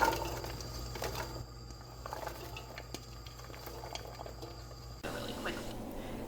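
Chopped vegetables sauté in olive oil in a pot, giving a steady close sizzle and bubbling crackle with small pops, continuing under a brief shift midway.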